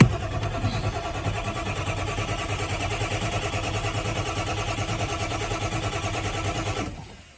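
A big black truck engine cranking on a cold start, the starter churning in a steady rapid rhythm for nearly seven seconds before cutting off abruptly, loud and close with no talk.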